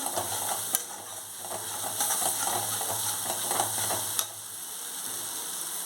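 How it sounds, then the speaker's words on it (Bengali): Thick gravy masala for a Bengali prawn-stuffed pointed gourd dorma sizzles steadily in a pan, with scraping stirs and a few sharp clinks of a spoon against the metal, close and continuous with no talking. "গ্রেভির মশলাটা কষে গেছে"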